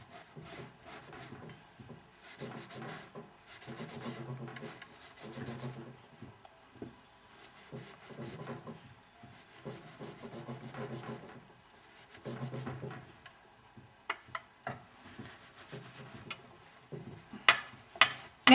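Steel wool scrubbing silverware metal, a quiet rasping rub that comes in repeated back-and-forth bursts with short pauses between strokes, close and dry, with a few sharp clinks near the end.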